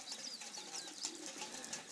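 Pigeons in a 36-foot aviary loft in Puna, Hilo, Hawaii give soft, faint cooing and light chirps, steady and distant-sounding throughout the short stretch.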